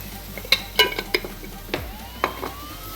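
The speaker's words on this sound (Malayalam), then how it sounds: "കുറച്ച് നേരം നമുക്ക് അത് മൂക്കാൻ വേണ്ടി കുറച്ചൊന്ന് ഇളക്കാം" A spoon scrapes and clinks against a pan several times while papadam fries softly in a little oil, the stirring coming in short irregular strokes.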